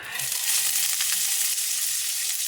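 Onions frying in a pan while being stirred, a loud continuous close-up sizzle with brief scrapes of the utensil and no voices.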